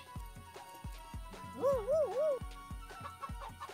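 A cartoonish chicken clucks in a short run of rising and falling warbles during a character emote animation in the video game Fall Guys, layered over rhythmic game music thumps.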